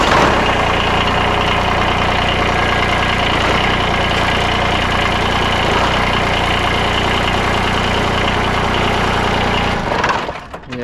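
A loader tractor's engine idling close by with a steady, loud, dense drone that fades and cuts out near the end.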